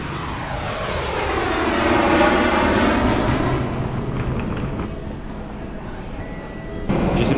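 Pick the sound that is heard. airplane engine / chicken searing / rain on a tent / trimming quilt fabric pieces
airplane engine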